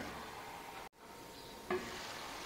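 Homemade Punjabi-style dal wadiyan fry in a pan with a steady, soft sizzle and light stirring, briefly interrupted by a short dropout and then a faint clink.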